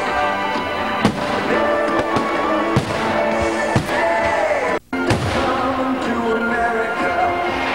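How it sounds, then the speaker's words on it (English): Fireworks at an early morning celebration of the American spirit: continuous crackling bursts with a few sharp loud bangs near 1 s, 2.8 s and 3.8 s, and a brief dropout just before 5 s. A busy, dense display throughout with no talk. "the early morning party, which included a huge fireworks display that celebrated the American spirit"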